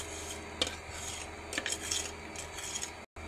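Crushed biscuit crumbs being tipped and scraped into a mixing bowl, giving soft gritty rasping and rubbing sounds with a few sharper scrapes, close and alone without talk.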